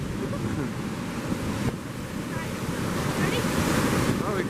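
Loud ocean surf breaking steadily at a beach, a continuous roaring wash of waves with heavy wind noise buffeting the microphone throughout.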